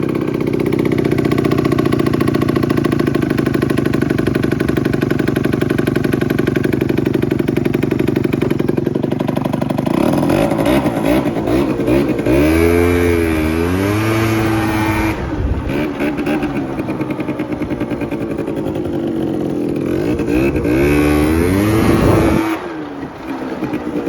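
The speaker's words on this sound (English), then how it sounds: "That exhaust is just getting louder and louder each second I ride this." Yamaha Jog scooter with a two-stroke engine and a loud exhaust while being ridden: a steady, raspy buzzing drone with rising and falling revs, close and loud throughout, with no talk.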